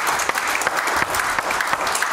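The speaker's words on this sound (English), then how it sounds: "Give the Lord a hand clap" A church congregation claps their hands in praise, a brief, dense burst of applause that fills the room.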